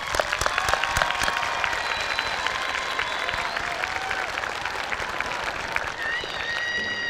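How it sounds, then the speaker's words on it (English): A high school graduation audience breaks into sustained applause, dense clapping that holds steady from start to finish, with a few whistles and faint cheers rising above it. "Let's give them a round of applause."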